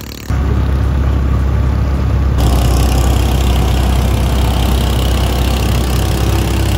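A motor boat engine runs on muddy water through a floating village in Cambodia, a loud, close, steady drone that cuts in abruptly and holds constant with no voices.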